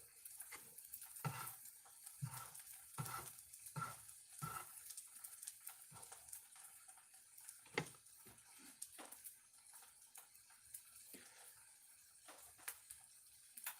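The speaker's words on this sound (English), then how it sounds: "You hear that light sizzle." A quiet, light sizzle of food frying, with scattered soft pops and clicks of stirring over a hissy background.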